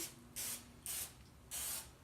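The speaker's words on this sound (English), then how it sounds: "throw on some vegetable oil spray to this pan" Three short bursts of vegetable oil cooking spray onto a pan, each a bright hissing spritz about a third of a second long, close and clear with quiet between.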